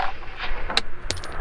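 Metallic clicks of a cartridge being loaded into a Palmetto State Armory Gen 2 .308 AR-10 rifle, a couple of sharp, close clinks over a quiet background.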